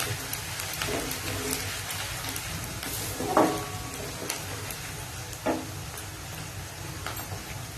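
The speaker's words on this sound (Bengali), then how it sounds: "আর এখন দিয়ে দেবো কেটে রাখা রসুন কুচিগুলো, দিয়ে ভালো করে নেড়ে নেব যাতে রসুনের কাঁচা গন্ধটা না বেরোয়" Chopped garlic frying in a pan while being stirred, a steady soft sizzle with occasional scraping clicks of the spatula, close and fairly quiet.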